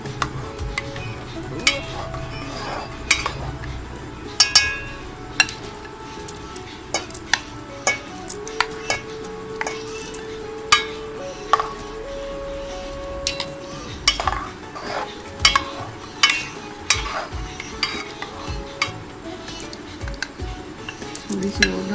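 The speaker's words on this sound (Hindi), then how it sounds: "साथ मिक्स कर लेंगे अच्छे से।" Lab-e-Shirin dessert ingredients being stirred together in a bowl, with repeated clinks and scrapes of a spoon against the dish at an uneven pace, close by, with faint background hum.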